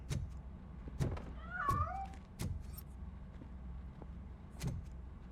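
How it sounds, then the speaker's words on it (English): A cat meows in the RoboCop: Rogue City video game, one clear wavering meow near the middle amid soft background ambience and a few sharp knocks. "That cat must be hiding inside."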